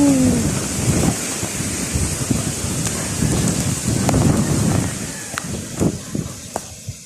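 Strong typhoon wind gusting and roaring continuously near a large tree, with rumbling buffets and scattered sharp cracks and rattles of debris throughout.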